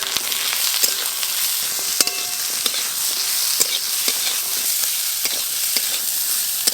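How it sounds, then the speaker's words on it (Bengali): Whole garam masala, chopped onion, garlic and ginger fry in a little mustard oil on a village clay stove, giving a close, continuous sizzle with scattered sharp crackles and pops and no talk over it. "অল্প একটু তেল দিয়ে সব মশলা খুব ভালো করে একটু ভেজে নেব"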